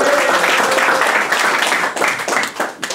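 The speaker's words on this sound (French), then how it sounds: "Applaudissements, s'il vous plaît." An audience applauds at a live show, a loud, close burst of many hands clapping that thins and tapers toward the end, with faint voices mixed in.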